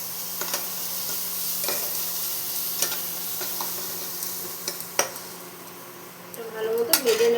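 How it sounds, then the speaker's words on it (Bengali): Ginger garlic paste frying in a pan while making chaal potol, a soft steady sizzle broken by scattered scrapes and taps of a spoon against the pan, with a louder burst of stirring near the end. "ভালো মতো ভেজে নেব মশলাটা"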